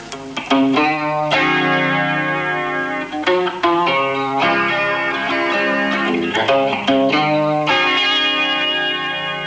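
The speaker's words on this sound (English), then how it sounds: "But I can add in the effects without any echo, and it gets a little more modern sounding." Electric guitar played through an effects unit with distortion and chorus but no echo; sustained chords ring loud and close, with a few sharp strummed attacks and no voices.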